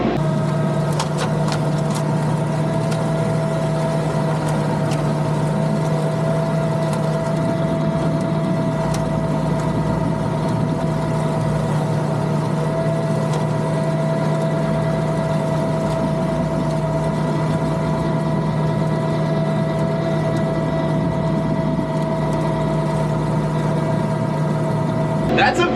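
Grass-cutting machine engine running steadily in first gear, a loud, constant droning hum with a stable pitch that holds unbroken for the whole stretch, with no talk over it.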